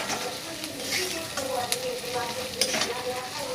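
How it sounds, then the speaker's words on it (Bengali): Spices fry with turmeric powder in a pan, a steady close sizzle with intermittent spatula scrapes and clicks, no one talking over it. "এরপর আমি দিয়ে দিচ্ছি হলুদের গুঁড়ো আবার একটু ভেজে নিচ্ছি"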